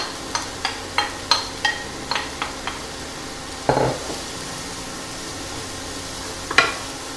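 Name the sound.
shallots and mushroom stems frying in butter in a pan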